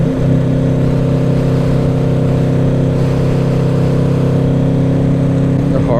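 A Yamaha VMAX motorcycle, its clutch slipping slightly after long storage, drones loudly and steadily while being ridden. The engine note holds at a constant pitch for six seconds, close up and strongly harmonic.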